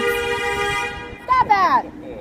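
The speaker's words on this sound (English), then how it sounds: "He was honking because the guy stopped for the yellow light." A car horn honks at a traffic light, one steady sustained blare lasting about a second, followed by a brief voice.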